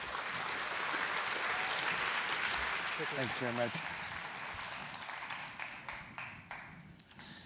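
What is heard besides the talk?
audience applause welcoming a speaker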